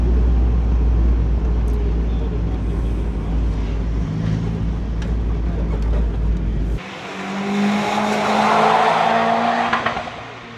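A rear-wheel drive race car runs on a track, first as a low steady drone, then roaring closer with revving engine and squealing tires that swell loudly and fade.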